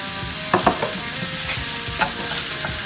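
Chopped onion and garlic sizzle steadily in hot oil in a pan, with a few sharp stirring scrapes and knocks over the continuous frying hiss.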